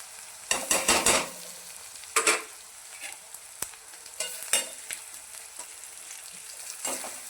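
Spices sautéing in a pan for tomato chutney, with soft sizzling under bursts of scraping and stirring, loudest near the start and then scattered and quieter. No voices are heard.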